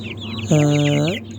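Chickens clucking close by, one loud drawn-out cluck rising over softer bird chatter in a short burst.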